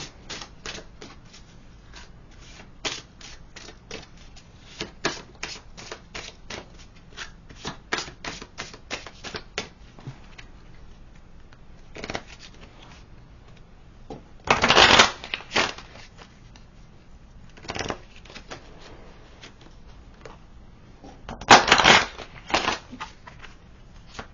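A deck of oracle cards is handled up close: a run of crisp clicks and taps, broken by two short, louder riffling bursts of shuffling.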